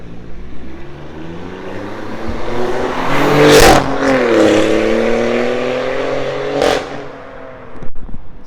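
A BMW F30 318's three-cylinder engine revs up and holds a high, rising growl from its remote-controlled performance exhaust, then eases off before a short final blip.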